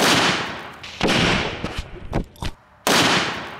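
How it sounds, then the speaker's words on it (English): M80 firecrackers exploding outdoors, with several sharp, loud, close blasts, each trailing into a decaying roar and separated by brief quieter gaps. "Little tiny M80."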